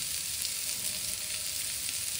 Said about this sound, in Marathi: आणि हे आता सगळं आपण पुन्हा छान परतणार.